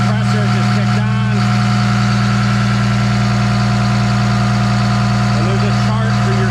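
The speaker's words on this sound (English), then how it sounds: "There's the compressor just kicked on." A Komatsu D51 dozer runs with a loud, steady engine hum and a strong constant drone as its A/C compressor engages, with a brief voice heard over the machinery.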